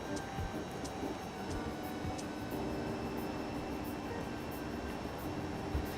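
Airplane engine in a flight video game, a steady, even drone with faint tonal hum and occasional light ticks, continuous and moderately loud with no clear speech.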